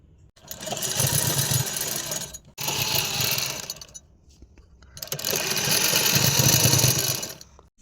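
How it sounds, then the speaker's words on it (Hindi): Sewing machine running in long continuous stitching bursts on fabric for a sharara outfit, two runs separated by a brief pause and a quieter gap, steady and close. "अब ये यहाँ से यहाँ तक सिलाई लगा देंगे।"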